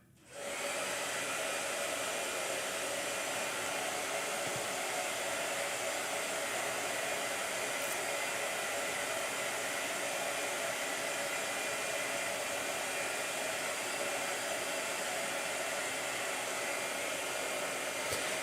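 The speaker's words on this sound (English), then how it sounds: "Blow dryer." A hair dryer blows with a steady, loud airy whoosh that starts abruptly and runs unbroken for the whole stretch.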